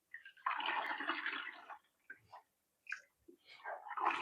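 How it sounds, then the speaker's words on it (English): Whey and curds for homemade cheese pour through a strainer in a steady splashing rush lasting about a second, followed by scattered softer trickles and drips, close and fairly quiet. "Then I just pour everything through."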